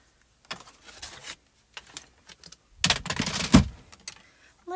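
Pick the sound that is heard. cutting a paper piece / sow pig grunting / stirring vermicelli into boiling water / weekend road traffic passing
cutting a paper piece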